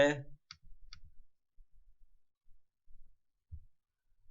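A computer keyboard sticking while typing Ottoman Turkish letters during a lesson gives a few sparse, faint clicks spread across otherwise near-silent seconds, after a brief opening burst.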